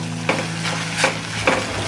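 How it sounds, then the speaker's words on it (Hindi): Tomato paste fries in hot oil with a steady sizzle, broken by three brief stirring scrapes at regular intervals, close and clear, with no talk. "अब मैं इसमें डालूंगी टोमेटो की पेस्ट। और इसे भी तेल छूटने तक फ्राई करेंगे।"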